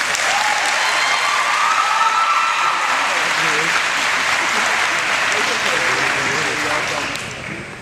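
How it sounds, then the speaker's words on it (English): A graduation ceremony audience for the class of 2014 gives a sustained, dense round of applause, loud and steady for several seconds before tapering slightly at the end. "offer a round of applause to all the people that are sitting in front of them"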